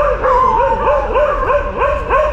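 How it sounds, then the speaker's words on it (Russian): Dogs bark and yelp repeatedly in a rhythmic series on a busy street in the Main Bazaar area of Delhi, India, loud and close over steady background noise. "А вот эти постоянно лающие собаки"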